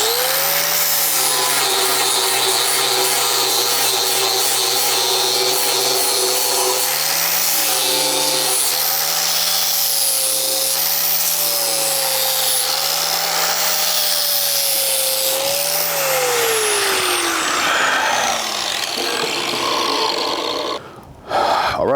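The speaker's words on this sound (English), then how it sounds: "That's how you take your welds off your edges. That's how I grind them." An angle grinder works weld seams off the edges of a metal sculpture, a loud, continuous high-pitched whine with rising and falling pitch as the disc bites the metal, close up, winding down near the end.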